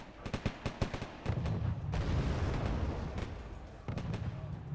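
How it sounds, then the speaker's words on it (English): Explosive blasts and gunfire from a Wargame AirLand Battle bombing run with anti-radar missiles on Tunguska air-defence units: a quick series of sharp cracks, then a rolling rumble and another burst, moderately loud. "I'm gonna bomb the Tunguska's."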